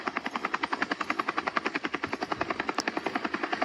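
A helicopter passes overhead, its rotor chopping out a fast, steady stream of even pulses that stays loud and close throughout.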